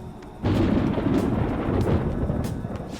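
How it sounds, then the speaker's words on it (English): Low, rolling thunder from Persona 5 Royal surges in after a quiet start and rumbles on steadily near the listener, a broad sustained roar with no talking over it. "It sounds like it's going to rain."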